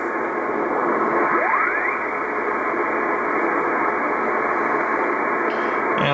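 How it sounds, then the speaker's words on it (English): Morse code on the 21 MHz amateur shortwave band, heard through loud continuous static hiss with a faint sweeping tone drifting across, steady throughout with no voices. "Then you'll have some more Morse code here."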